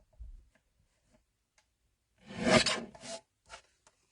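A paper trimmer blade slides through card for a black card-blank craft project, one short rasping cut heard close and alone after faint handling taps.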